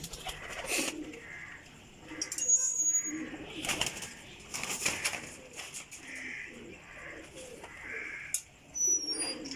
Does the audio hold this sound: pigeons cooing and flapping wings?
yes